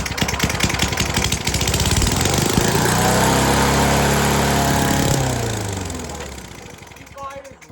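A small pull-start engine catches and runs loud and close, its rising harmonic drone holding steady before sagging and dying away toward the end; a voice speaks over it.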